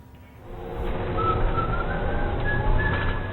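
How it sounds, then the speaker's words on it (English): An Albuquerque bus driver whistles a tune over the low rumble of the moving bus, the melody steady and moderately loud inside the cabin with no talking. "You can tell by his whistling"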